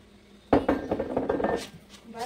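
Cream being whisked by hand into caramel for coffee, a brief burst of quick metallic scraping and clinking strokes against a pot, close and fairly loud, with a voice talking over it.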